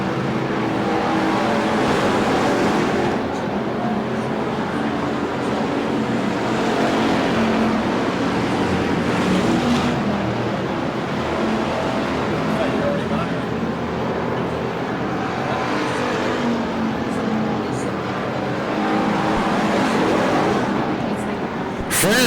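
Open-competition stock cars race around the Bakersfield, California track at a Veterans Day Classic, their engines a steady, loud, continuous roar with no break throughout.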